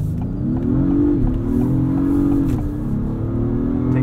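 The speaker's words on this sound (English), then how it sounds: "throttle tip-in gives you so much acceleration initially." 2022 Acura MDX Type S SUV accelerating hard in sport mode, its engine note climbing steadily with two brief dips at gear shifts, loud and close from inside the cabin over constant road rumble.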